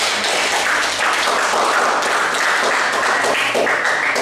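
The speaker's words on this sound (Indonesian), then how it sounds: "Jadi tepuk tangan dulu yang sudah membuat." A classroom full of students claps in a dense, steady round of applause that stays loud and even for several seconds, with no talking over it.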